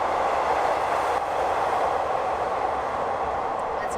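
A steady rumbling rush of a train running close by at Bang Sue station in Bangkok, continuous and loud with no breaks.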